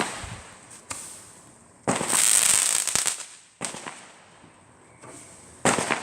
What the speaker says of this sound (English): Or here's fireworks for you, I guess.